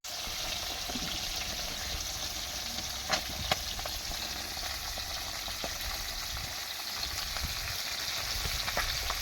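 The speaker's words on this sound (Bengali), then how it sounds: "মাছ ভাজা হচ্ছে" Large fish frying in a pan, a steady close sizzle that runs throughout at an even level, with a few faint clicks and taps on top and no talking.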